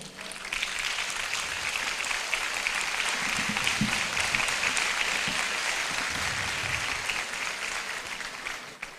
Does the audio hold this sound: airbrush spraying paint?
no